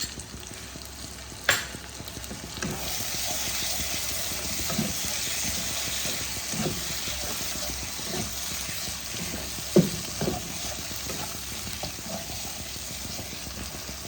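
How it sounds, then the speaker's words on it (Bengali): A spice masala for Bengali stuffed pointed gourd sautés in a pan with a little water, frying steadily and close by, with occasional scrapes and clacks of a stirring spoon. "অল্প জল দিয়ে কষাবো।"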